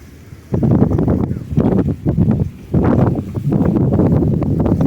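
Strong wind buffets the microphone on top of the Pandansimo bridge over the flooded Progo river at Srandakan, a loud roaring rumble that surges in gusts and briefly drops between them.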